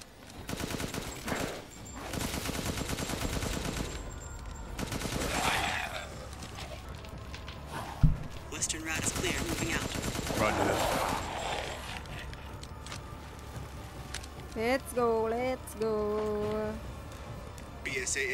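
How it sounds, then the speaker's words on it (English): Machine gun fire in the video game Resident Evil Village, sustained rapid bursts running through most of the stretch amid combat noise, with voices talking over it. "Ah, machine gun, let's go."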